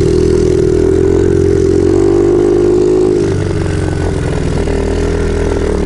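An MRF motorcycle engine pulls steadily uphill, loud and close, with a sustained mid-pitched drone that eases slightly after a few seconds but keeps running throughout with no talk.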